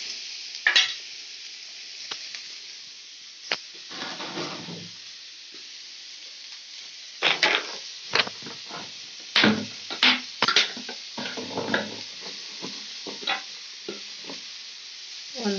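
Ingredients roasting in a pan until reddish, with intermittent scraping stirs and soft sizzling, the spatula strokes coming in irregular bursts over a quiet background.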